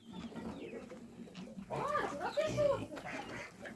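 Geese call in a barnyard, sharp honks and cackles bursting out in the second half after a low murmur of poultry and voices; other farm birds such as ducklings and chickens are nearby, and people talk throughout.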